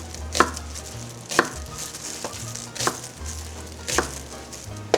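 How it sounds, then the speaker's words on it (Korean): Half an onion being chopped finely with a knife on a cutting board, about five firm evenly spaced knocks roughly a second apart, close and alone. "양파 반 개를요 잘게 썰어서 준비해 주세요"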